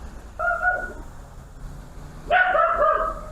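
Neighbourhood dogs bark from a distance in two separate bursts, the first short and the second a longer cluster, over a quiet background.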